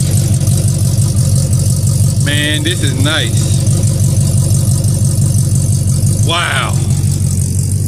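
A car engine idles through its exhaust with a loud, steady low rumble that runs the whole time, while a couple of people talk briefly over it.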